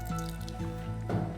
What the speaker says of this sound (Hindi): अब अंदर पानी भर दिया हमने